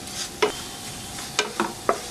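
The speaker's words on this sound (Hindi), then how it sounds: "अब ये शुगर मेल्ट होना शुरू हो चुकी है, अच्छे से मिक्स करें" Milk with sugar and cardamom powder stirred in a pan, with a few sparse spoon scrapes and taps over a faint simmer, close and fairly quiet.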